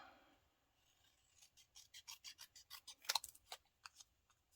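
Scissors snip through a stamped paper greeting card panel in a quick run of close, crisp cuts, about a dozen short rhythmic strokes with a brief pause near the end.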